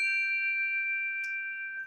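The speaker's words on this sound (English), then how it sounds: "I do recommend that you just strike those chimes." Classroom chimes struck once, ringing out in a clear sustained metallic tone that holds steadily, with a small soft tap partway through and no talking.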